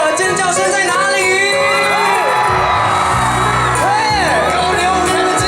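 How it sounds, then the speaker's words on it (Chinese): A large crowd at a New Year's Eve concert stage in Kaohsiung screams, whoops and cheers loudly and continuously, with shrill rising yells over a dense roar of voices. "蓬莱舞台的所有的尖叫声在哪里？"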